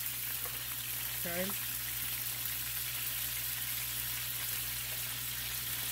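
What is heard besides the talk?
chicken browning in a frying pan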